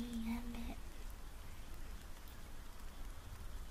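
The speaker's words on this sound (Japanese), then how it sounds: "今日もいい雨、" Rain falls steadily and softly, a gentle continuous patter close by after a brief tone fades at the start.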